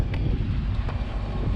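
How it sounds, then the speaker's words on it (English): Strong wind buffets a microphone outdoors on a welding job beside a rock grapple skid loader bucket, a steady low roar with gusty fluctuations and no speech. "Man, it's windy out."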